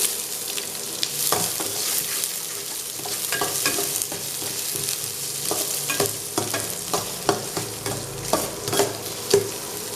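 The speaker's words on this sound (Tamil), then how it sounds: "இப்போ வெங்காயத்தை ஆட் பண்ணிடலாம்." Onions tossed into urad dal frying in hot oil for onion fried mini idli, giving a steady close sizzle broken by repeated scraping stir strokes and sharp clicks of a spoon against the pan.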